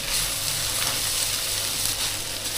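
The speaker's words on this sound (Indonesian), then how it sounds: "Ini kita masukin ini ya, lapcongnya." Chinese sausage (lapcong) sizzling with rice in a pan, a steady broadband fry hiss with faint stirring, close and continuous with no talk.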